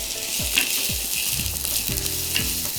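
Onions sauté in a pan for a crab and spinach quiche, giving a steady close sizzle with several light scraping stirs and clicks of a utensil against the pan.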